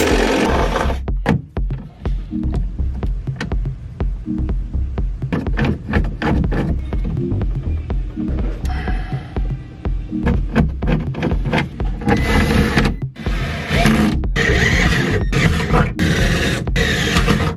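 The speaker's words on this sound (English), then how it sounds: "I have to drill holes for rivets to go in place so that I can then screw this up." A power drill bores rivet holes through the metal body of a Ford Mustang, with repeated grinding bursts of cutting, short pauses, and brief whirring restarts close by.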